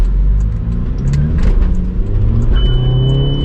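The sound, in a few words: 2004 VW Passat accelerating hard in a one-wheel peel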